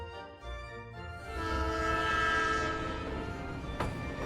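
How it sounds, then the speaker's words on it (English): A train horn blows a sustained, rich chord over rumbling rail noise, swelling louder midway and holding, with a sharp clank near the end. "The train whistle echoed."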